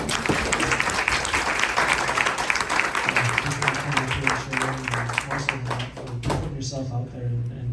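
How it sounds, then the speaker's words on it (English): A small audience at a kava bar claps for a speaker, individual claps distinct and fairly close, thinning out toward the end while a low hum runs underneath and voices talk briefly. "Let's give her a big round of applause"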